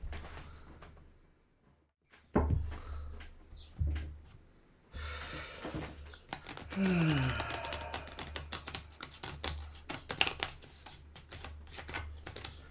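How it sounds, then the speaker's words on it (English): A new, thick tarot card deck is shuffled close up: crisp riffling bursts and rapid flutters, with soft handling sounds and pauses between them. "fun thing about a new deck is breaking it in, shuffling it. This is a thick deck."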